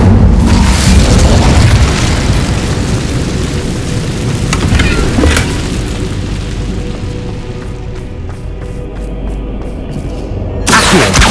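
The Incendio fire spell from Hogwarts Legacy lands as a loud booming burst that settles into a long roaring, crackling rush, which thins out before a fresh surge right at the end.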